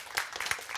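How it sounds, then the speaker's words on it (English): A brief burst of audience applause closes a talk at a customer conference, a faint spatter of claps that is soft and short. "Can we have a round of applause,"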